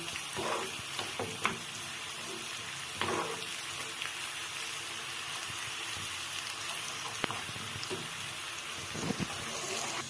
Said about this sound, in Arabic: بنضيفه بعد ما يبدأ البصل التحمير عشان يتحمروا مع بعض الثوم والبصلة